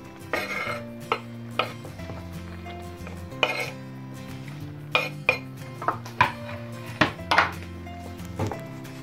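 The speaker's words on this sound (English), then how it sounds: "So I'm just going to put these in the pan now." Mushrooms go into a big pan for a chunky vegetable pasta, with a steady run of light clatters, clinks and thunks of pan and utensils over a low hum.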